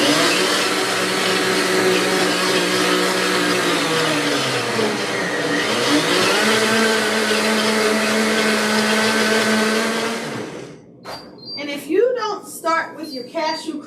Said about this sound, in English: This is a high-speed blender.